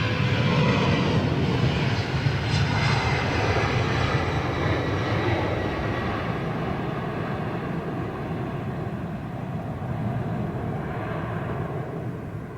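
An airliner takes off at London Heathrow Airport, its jet engines a loud, continuous, rumbling roar that slowly thins and fades as it climbs away.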